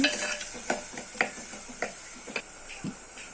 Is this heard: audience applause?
no